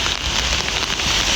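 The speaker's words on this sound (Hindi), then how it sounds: "तो यहाँ पे बारिश हो रही है" Heavy rain pours steadily onto a street, a dense, close hiss of drops striking the pavement with no voices over it.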